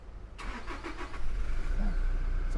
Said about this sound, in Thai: ขออนุญาตสตาร์ทเครื่องยนต์ให้ฟังเสียงเครื่องยนต์ด้วย